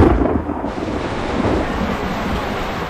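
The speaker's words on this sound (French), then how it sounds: "Eh oui, le déluge." Sudden heavy tropical downpour on an organic farm in rural northern Thailand, a dense, steady roar of rain with low rumbling underneath, loud and continuous with no voices.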